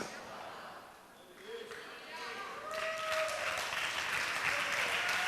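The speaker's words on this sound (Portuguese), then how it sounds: "Forte esse aplauso à palavra de Deus." A church congregation applauds during a sermon, a broad wash of clapping that swells after a quieter start and holds steady and loud to the end, with a few voices mixed in.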